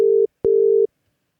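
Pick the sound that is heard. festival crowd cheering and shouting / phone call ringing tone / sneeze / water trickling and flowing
phone call ringing tone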